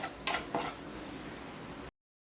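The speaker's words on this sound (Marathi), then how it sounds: "हळद मीठ टाकून झाल्यावर परत परतून घ्या." Prawns with turmeric and salt are stirred in a pan, a soft sizzle broken by two scraping spatula strokes before the sound cuts off abruptly.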